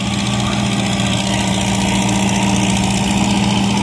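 Tractor engine running steadily during a tractor pull at a steam threshers reunion in western Minnesota, a loud, continuous droning rumble with a constant low hum and no breaks.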